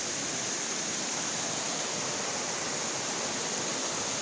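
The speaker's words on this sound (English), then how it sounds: "Found me some more waterfalls." A waterfall at Jones Creek in the North Georgia Mountains pours as a constant, dense hiss of rushing water, unchanging and fairly close, with no voices over it.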